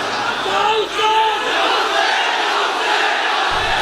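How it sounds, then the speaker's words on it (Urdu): A large crowd at a religious gathering shouts Ya Hussain slogans in a dense, loud roar with rising chant-like voices, sustained throughout and cutting off abruptly near the end. "پوری گلی سے لے کر یہاں تک یا حسین کے نعرے لگ رہے ہوں."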